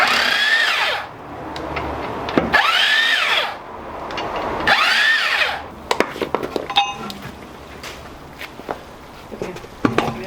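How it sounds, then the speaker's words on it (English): A power drill whirs through new holes in three strong bursts of a few seconds each, followed by scattered clicks and clinks of parts and tools nearby. "New holes are all nice and drilled"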